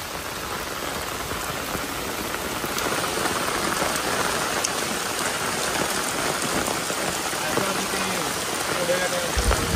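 Heavy rain pours steadily onto a car during a long drive from Goa to Mumbai, a dense, even hiss of drops drumming on the roof from start to finish.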